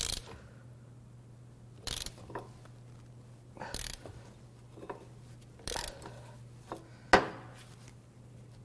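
A ratchet clicks in short, spaced bursts while straining against the seized crankshaft of a Toyota Land Cruiser 1FZ-FE engine on the bench, with sharp metallic knocks and a low steady hum underneath.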